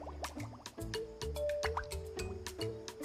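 A video-game creature's foamy soap bubble pops, heard as a quick run of wet, squishy dripping plinks and little bubbly pops over a low game tone.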